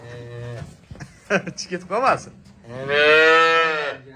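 Cattle at a market where Simmental and Russian Swiss cows are sold give a loud, drawn-out moo near the end, after a man's short spoken words and a few scattered, shorter lowing sounds.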